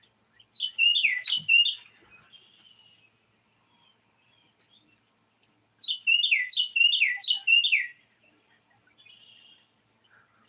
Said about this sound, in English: a very loud bird. I'm trying to see what it is.